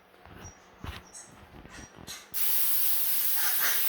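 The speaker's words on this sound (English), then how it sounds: "after we spray the parchment paper" Vegetable oil sprayed onto parchment paper for cottage cheese flatbread: a few soft handling clicks and rustles, then one sustained, close, loud hissing spray burst that runs to the end.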